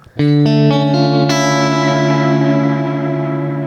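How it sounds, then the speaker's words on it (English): An electric guitar chord, played on coil-split humbuckers with both pickups selected, is strummed note by note into a shimmering, ringing sustain with reverb, loud and alone, slowly fading. "if I have like a mid pickup selected here, like using both humbuckers and then the coil split"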